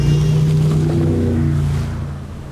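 A Donzi twin-engine powerboat, the top-of-range model with over 2,000 horsepower, runs with a steady deep engine drone and water rush, loud and close, easing slightly toward the end.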